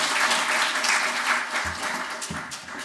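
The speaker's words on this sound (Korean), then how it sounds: "큰 박수 부탁드리겠습니다." An audience of older adults applauds a respiratory and allergy professor onto the stage at a health lecture concert, with sustained dense clapping filling the hall throughout.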